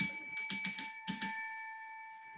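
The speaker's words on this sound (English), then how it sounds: "Can I ring the bell?" Small bell rung several times in quick succession, bright ringing strikes that then hold into a clear, fading tone, fairly quiet and alone.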